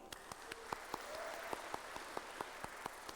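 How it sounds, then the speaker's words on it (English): Scattered handclaps from a graduation ceremony crowd at Otago Polytechnic's Auckland International Campus, a dozen or so sharp, fairly faint claps at irregular intervals over a soft room hum, no voices. "So every time I say, ho mai te paki paki, I want everyone to clap."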